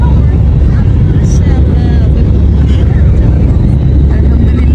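Loud, steady low roar of jet engines inside an airliner cabin during takeoff on a Saudi Airlines flight, a dense rumble filling the whole stretch with faint voices mixed in.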